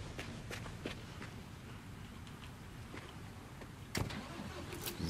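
A truck drives in the video game Construction Simulator 22, giving a steady mid-pitched engine rumble throughout, broken by a few sharp clicks and one louder knock near the end.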